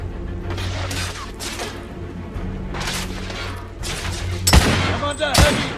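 Heavy gunfire in the Victorian-era shooter The Order: 1886, with scattered close shots and a burst of loud blasts over a rumbling battle bed, while mechanical clanks sound in between.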